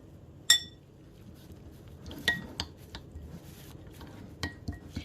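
A spoon scrapes and clinks against a bowl while stirring microwave-melted chocolate, with a few sharp taps and softer scraping strokes between them.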